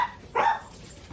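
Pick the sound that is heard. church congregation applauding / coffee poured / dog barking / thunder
dog barking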